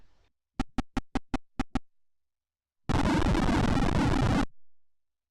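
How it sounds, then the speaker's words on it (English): A DOS Pac-Man clone video game gives a run of seven short, sharp electronic blips, then a harsh burst of loud crackling noise that lasts about a second and a half before cutting off. "That's the sound of crackling in a DOS game"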